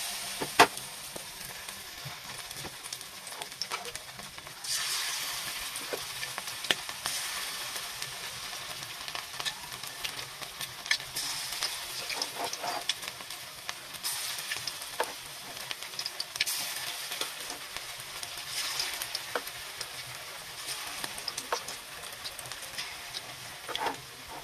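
Egg-coated pieces fry in a pan with a soft, continuous sizzle and hiss, swelling louder at moments with scattered pops and utensil taps, fairly quiet and close with no voices.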